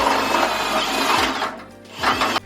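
A step drill bit whines as it bores a 5/8-inch hole in a Harbor Freight cabinet, a loud, close grinding drone for over a second before a brief pause and another short burst.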